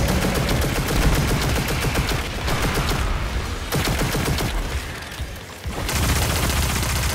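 Dense, continuous video-game gunfire from Destiny 2, rapid bursts and booming shots layered into a loud fusillade that dips briefly near the end before surging back, with no talking.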